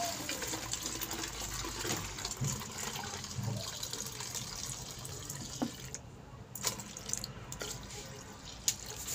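Clean water pours into a container while making homemade dishwashing liquid, a steady close splashing flow with faint background noise throughout.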